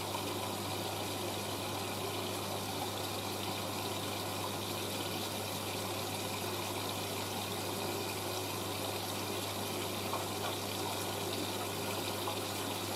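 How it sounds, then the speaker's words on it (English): A washing machine takes in water for its final rinse. A continuous rushing inflow runs over a steady low hum, constant and unbroken from start to end, with no voices. "That's entering the final rinse now."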